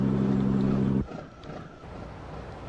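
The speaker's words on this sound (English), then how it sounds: "my engine noise was still running even though it wasn't" A heavy truck engine in the American Truck Simulator game gives off a steady, loud, low droning hum that cuts off abruptly after about a second, leaving a quieter background hiss.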